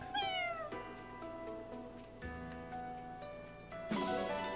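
A cat meows in the video game Fire Emblem Engage, one clear descending cry at the start, then bright chime-like tones and game effects fill the rest.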